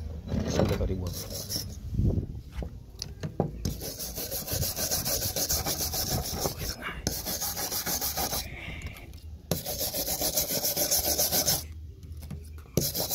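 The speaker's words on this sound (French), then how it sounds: "il est très facile d'enlever la rouille de cette clé à pipe car elle se détache très facilement lorsque je frotte sur sa surface" Vinegar-soaked rusty metal socket wrench scrubbed by hand, a steady raspy rubbing and scraping that runs continuously for over ten seconds at close range, with short pauses between strokes and no talking.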